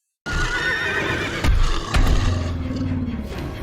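Horses neigh and whinny loudly in an animated fantasy series, with hoof clip-clops and action noise, two sharp bursts standing out over a dense, busy soundtrack.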